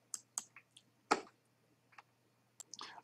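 Sparse mouse clicks at a computer in Excel, a few light taps spaced irregularly across a quiet moment, with one slightly louder click near the middle.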